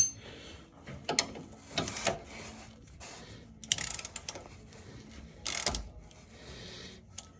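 A ratchet wrench working on a sway bar link of a 2007 Silverado 1500, giving short bursts of quick clicking separated by pauses, close and fairly quiet.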